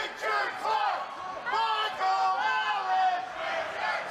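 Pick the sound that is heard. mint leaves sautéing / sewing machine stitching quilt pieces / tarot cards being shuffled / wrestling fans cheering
wrestling fans cheering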